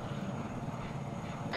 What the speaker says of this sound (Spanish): Acaba de llegar el helicóptero de transporte